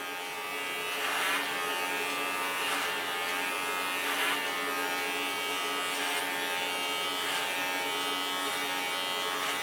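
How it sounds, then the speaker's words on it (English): An electric hair clipper cuts hair over a comb while shaping a short pixie cut: a steady, close motor buzz with faint rhythmic swells as the blades pass through the hair, and no talking. "And do this clipper over comb."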